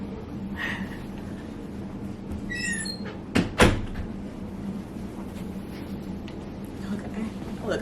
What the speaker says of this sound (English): I had to close that door